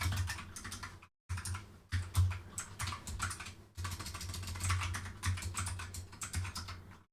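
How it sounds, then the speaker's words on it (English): Someone types on a new computer keyboard in rapid, continuous bursts of close key clicks, broken by a few short pauses. No voice is heard. "I'm also getting used to my new keyboard, so I might be even worse at typing than normal."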